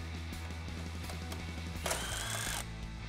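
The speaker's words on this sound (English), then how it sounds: "Remove your brake line bracket using a 10 millimeter socket" A ratchet with a 10 mm socket turns out a brake line bracket on a 2017-2018 Silverado or Sierra, making quick clicking pawl ticks over a low hum, with a brief harsher burst near the end.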